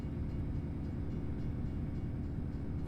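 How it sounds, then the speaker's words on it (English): A freight train rolling past a level crossing in American Truck Simulator, a steady low rumbling drone of wagons that holds evenly throughout without a break. "Bit of a different one, having to stop for a train."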